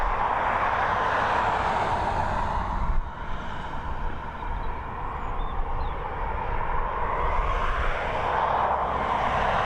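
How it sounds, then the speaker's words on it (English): Ryanair Boeing 737, flight FR7055 from Malaga, arriving at Dublin Airport: a steady, broad jet roar that holds throughout, dipping briefly partway through before swelling again at distance. "FR7055 coming in from Malaga. This Boeing 737."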